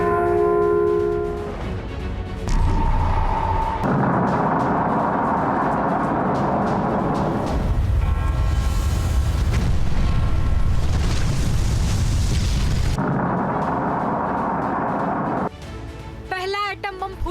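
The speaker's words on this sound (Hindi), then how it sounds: "पहला एटम बम फूटेगा। दूसरा एटम बम फूटेगा।" A dramatised atomic bomb explosion: deep, sustained rumbling blasts arrive in several loud, distinct waves, with ringing bell-like tones at the start and a sharp chime at the close.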